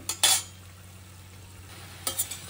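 Mushroom fried rice mixture being stirred in a pan, two short bursts of spoon scraping against metal separated by a quiet stretch of faint simmering, no talking.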